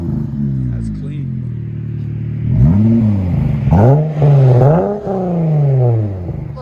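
A Dodge Challenger GT/SXT with a 3.6L V6 and Dynomax Race Bullet resonators revs repeatedly, several rising and falling throttle blips with a deep, smooth exhaust drone, loud and close after a steady idle.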